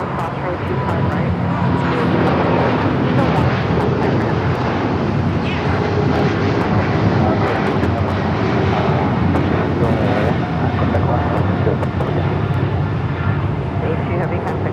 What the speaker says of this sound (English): That was the flight heading to Vienna, that 777 and 200 ER.